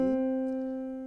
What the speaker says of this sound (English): Now when I play this note below these 2 black keys, then that would be a C.